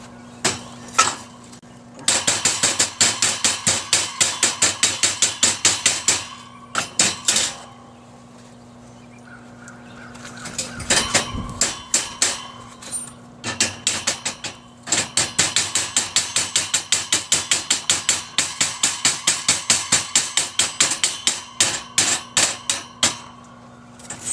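A chipping hammer knocks slag off a fresh weld on round dies for a guillotine tool, loud rapid metallic strikes in long bursts separated by brief pauses, close and alone.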